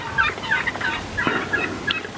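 Wild turkey toms gobbling and squabbling in a field during a hunt, several overlapping rattling calls heard at moderate distance in repeated bursts.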